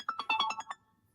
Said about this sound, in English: That's your phone? No, it's my phone.